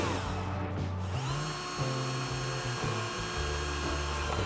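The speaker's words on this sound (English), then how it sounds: "I drilled some holes in the bracket so I could mount it on a piece of wood" A power drill bores holes in a 3D-printed bracket, whining in short bursts that rise and settle as pressure changes, close and loud throughout.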